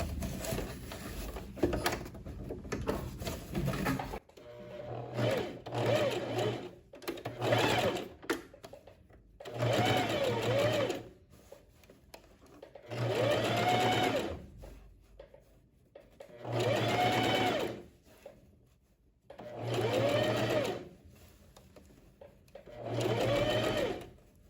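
A sewing machine runs a line of stitching close to the joining seam of a lined tailored vest, in a series of regular whirring bursts of a few seconds each, separated by brief pauses, fairly close and clear.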